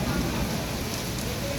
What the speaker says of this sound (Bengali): মোটামুটি ভালোই বৃষ্টি করতেছে